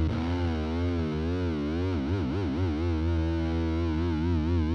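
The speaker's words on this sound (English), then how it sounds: "Or you can set it where it's wet, where you just hear the actual chorus voice." An electric guitar through a Fender fuzz pedal with chorus plays a thick, distorted sustained note whose tone wobbles and warbles in a steady chorus shimmer, loud and even with no talk.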